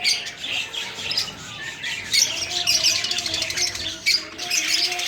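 A flock of birds huddled together in cold weather squawks and chirps continuously, a busy, fairly loud chorus of overlapping calls with no talking.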